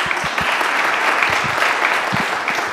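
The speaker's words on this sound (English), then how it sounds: "I'd like to have you guys give yourselves a round of applause" A crowd at a church service claps steadily throughout, dense applause filling the room at an even, loud level.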